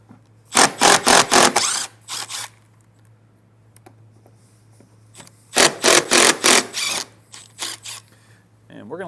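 Driver spinning out screws with a square bit on the extension rod of a Solera slide-out awning on a 2015 Forest River RV, in two close bursts of rapid rasping, ratcheting rotation separated by quiet, with a faint steady hum underneath.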